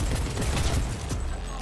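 Gunfire in Cyberpunk 2077, a dense, loud stream of rapid shots and impacts crackling continuously through the short burst of combat, with no talking over it.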